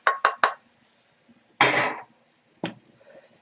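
Onions and herbs stirred quickly in a pan: three sharp utensil clinks against the pan, a longer scraping stir, then one more knock, close and clear with no talk.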